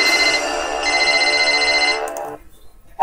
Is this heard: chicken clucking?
no